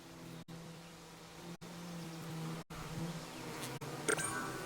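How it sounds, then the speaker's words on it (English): Angry bees swarm in the Winnie the Pooh area of the Disneyland Adventures game on Xbox, a steady, fairly quiet insect drone that drops out briefly several times, with a few light clicks near the end. "Oh, the bees seem very angry today."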